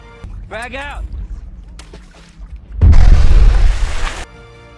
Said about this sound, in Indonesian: Imlay meledakkannya dengan granat